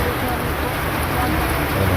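Heavy rain pours down in a dense, steady roar, loud and close, with no breaks across the whole stretch; a faint voice may be present under the downpour.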